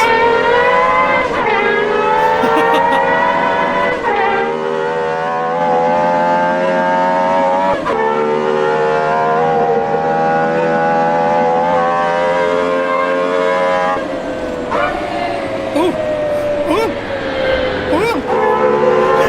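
A Lexus LFA in Assetto Corsa revs hard through the gears, its high-pitched V10 wail climbing and dropping sharply with each shift, loud and close for the whole stretch.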